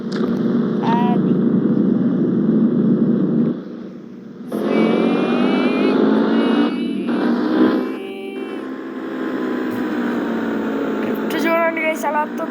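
A Yamaha motorcycle engine in the Indian Bikes 3D video game drones steadily with shifting pitch, running continuously under someone talking over it.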